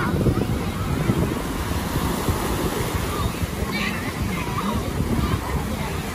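Surf rolls and wind buffets the microphone on Mũi Nai beach in Hà Tiên in the early morning, a steady loud wash of broadband noise.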